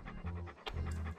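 A dog pants in Monkey Island 2: LeChuck's Revenge Special Edition, with quick rhythmic breaths repeating steadily over a low, continuous game background for just over a second.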